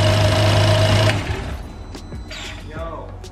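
A high-mileage BMW 435i engine with a cylinder 5 misfire runs loudly with a steady drone, then drops to a quieter idle while faint voices are heard.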